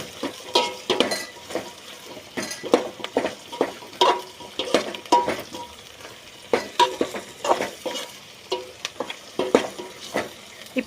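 Brinjal pieces frying in oil in a pan for a Kallakurichi-style kara kuzhambu, with a steady sizzle broken by repeated scraping stirs of a spatula against the metal, close and fairly loud, no talking.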